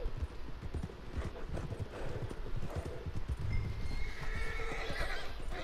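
Horse hooves clip-clop steadily with a neigh and whinny in the Red Dead Redemption 2 video game, the hoofbeats close and rhythmic throughout over a busy background.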